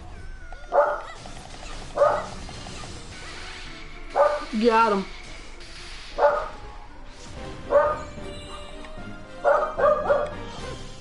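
A dog enemy in the video game Ni No Kuni 2 lets out a series of short, loud barks in regular bursts about every second or two, amid game effects and occasional talk from players.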